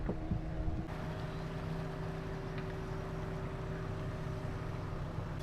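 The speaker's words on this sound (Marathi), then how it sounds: "मस्तपैकी होडीची सफर नावाडी आहे आमचा अजय" A steady low engine drone with wind rumble from a boat moving across the sea along the Konkan coast, continuous throughout with no talking.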